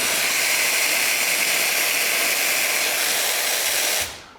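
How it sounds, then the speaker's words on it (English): A Bezerra Luce heat-exchanger espresso machine discharges condensed water and steam from its steam wand, a loud, steady, close rushing hiss lasting about four seconds before it cuts off. "And now step number 4, discharge the condensed water here."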